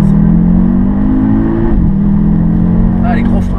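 A car accelerates hard on a race circuit during a Pirelli PZero driving event, its engine note climbing steadily and close, then dipping briefly before rising again.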